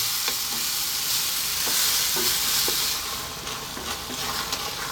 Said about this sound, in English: We really need to cook the tomatoes out here, and also it will give off a lot more moisture as it cooks down.